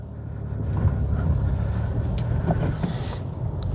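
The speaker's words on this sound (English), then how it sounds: "We pull away, the handbrake releases" A Dacia Jogger pulls away after its electronic parking brake releases, giving a steady, close low engine and road rumble that holds evenly throughout, with a few faint higher clicks and squeaks inside the cabin.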